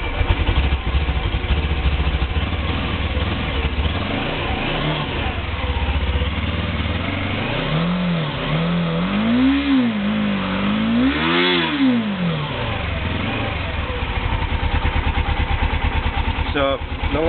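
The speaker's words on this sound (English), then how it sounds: "people are always liking to rev their motorcycles" A 1983 Suzuki GS450L motorcycle engine idles roughly, then revs up and down twice in rising and falling sweeps, loud and close, with some talking mixed in.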